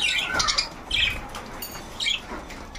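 Budgerigars feeding nearby give several harsh squawks and chirps in short bursts about a second apart, fairly close, with faint rustling between calls and no talk.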